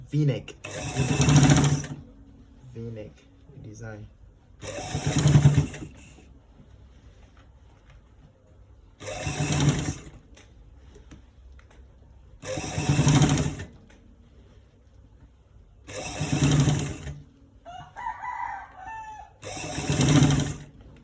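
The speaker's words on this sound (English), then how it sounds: "So we are stitching it all around to make the beautiful v-neck" A sewing machine stitches around a garment's v-neck in six loud, short bursts spaced about four seconds apart, with a person talking quietly in the gaps.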